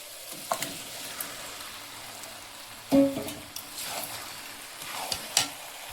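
Chicken pieces dropped into spice paste frying in oil for a home-style Bengali chicken curry, giving a steady sizzle with a sharper burst as the meat goes in and occasional stirring scrapes.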